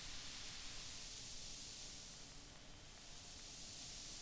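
Bright synthesizer white noise at 30% morph, a constant airy hiss heavy in the highs with a slight dip in tone midway, sounding alone without voices.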